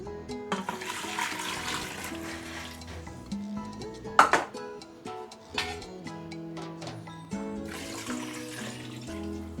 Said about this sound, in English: Okay, then I'm adding 2 liters of water.